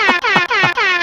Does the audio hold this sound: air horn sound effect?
yes